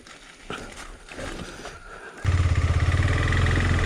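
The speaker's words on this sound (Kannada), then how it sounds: "ಈ ಬೈಕ್ನ ಇಂಚನೆ ತಿರ್ಗಾವಡು" A motorcycle engine starts up loudly and settles into a rapid, throbbing idle after quieter rustling and handling noises near a hillside temple.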